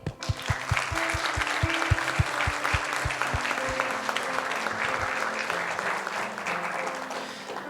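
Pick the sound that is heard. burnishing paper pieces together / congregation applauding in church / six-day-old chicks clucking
congregation applauding in church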